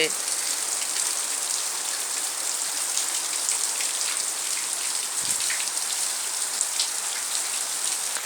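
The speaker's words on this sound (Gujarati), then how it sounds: "તમે જો કેટલો વરસાદ પડી રહ્યો છે" Heavy rain pours down on Vejalka village during a thunderstorm, a dense, loud, unbroken hiss of drops on surfaces that holds steady from start to finish.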